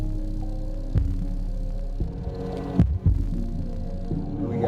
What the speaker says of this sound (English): So here we go with some bass